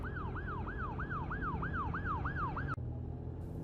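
An emergency siren wails in a fast, repeating rising-and-falling pattern over steady road noise, then cuts off abruptly, leaving the traffic rumble.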